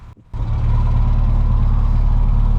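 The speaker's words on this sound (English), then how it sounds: "I'll just have to have a listen to the exhaust" A classic Mini, a Mark 1 Cooper, has its engine and exhaust running, settling into a steady, loud, throbbing idle close by after a brief opening moment, with no talk.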